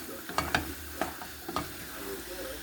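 Stewed black-eyed beans fry in a pot while a spoon stirs them, a soft steady sizzle with several quick scraping clinks of stirring, close and quiet.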